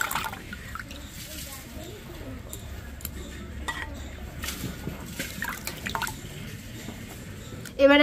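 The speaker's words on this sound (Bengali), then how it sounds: "এবার ভালো করে জলটা নিংড়ে আমি তুলে নিচ্ছি থালায়।" Water being squeezed out of washed, grated raw potato by hand, with soft wet drips and trickles and light clinks of a plate up close, faint and irregular throughout.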